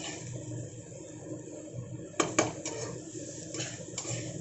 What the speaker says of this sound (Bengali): বেশ কিছুক্ষণ ভালো করে নাড়াচাড়া করে গ্যাসটাকে মিডিয়ামে রেখে ভাজা করছি আমি